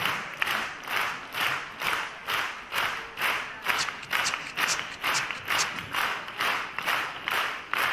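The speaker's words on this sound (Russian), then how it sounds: "Ваши аплодисменты" A concert audience at a jubilee event claps in rhythmic unison, a steady pulsing beat of applause filling the hall for several seconds.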